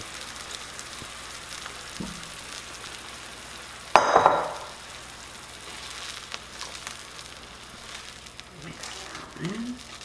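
Brine stirred into a sweet and spicy Thai meatball mixture in a pot gives a low, wet swishing with a sharp splash and clatter partway through, then quieter stirring, with a voice talking over it.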